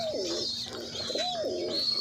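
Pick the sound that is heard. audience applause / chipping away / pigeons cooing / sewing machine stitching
pigeons cooing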